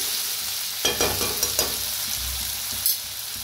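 Onion and tomato sizzling as they roast in a pan, a constant crackling fry punctuated by several sharp spatula knocks and stirring scrapes, close by with no voices.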